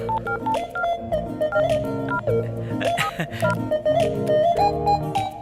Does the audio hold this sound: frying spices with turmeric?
no